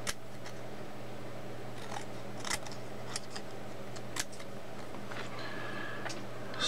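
Scissors fussy-cut a sheet of acetate in a quiet room, giving sparse, soft snips and ticks at irregular intervals over a faint steady hum.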